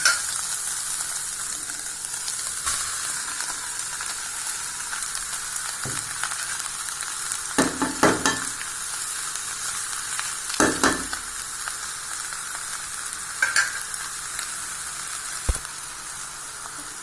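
Cooked rice is stir-fried with scrambled egg in a hot pan for egg fried rice, giving a continuous loud sizzle broken by a few sharp scraping stirs of a spoon, with no talking.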